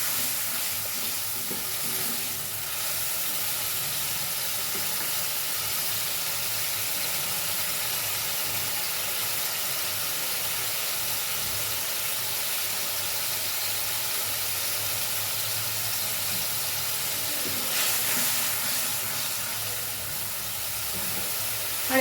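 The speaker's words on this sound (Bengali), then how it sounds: "এবার মশলাটা আমি ভালো করে কষিয়ে নেবো" Spiced masala sizzles steadily in a pan with winter vegetables for a Bengali mixed-vegetable curry, a continuous close hiss and crackle with occasional stirring and no talk.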